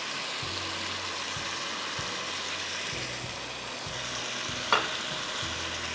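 Onions and chicken fry in a pan for a spicy chicken rice bowl, giving a steady, even hiss with soft intermittent low knocks from stirring underneath, at moderate distance and without talk.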